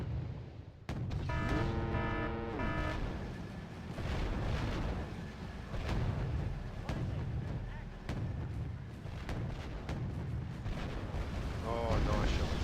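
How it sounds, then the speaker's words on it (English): Heavy artillery blasts and explosions from a military strategy video game, booming repeatedly in quick succession through the whole stretch, with a short radio-like tonal sound near the start and more near the end. "Nice explosions."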